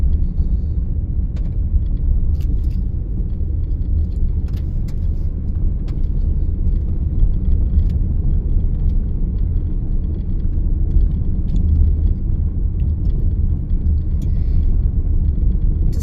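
A car drives along a country road past small villages on a calm morning, its steady low engine and tyre rumble heard from inside the cabin, constant throughout with no talk.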